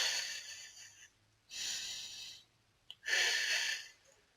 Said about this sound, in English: You should do abdomen breathing,